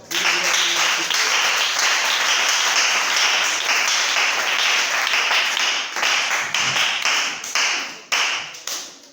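A church congregation applauds the Lord, dense sustained clapping from many hands filling the room loudly before thinning into scattered claps at the end.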